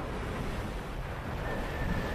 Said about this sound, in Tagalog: Mas maalon tong side na to.